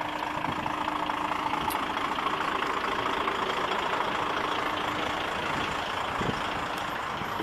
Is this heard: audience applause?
no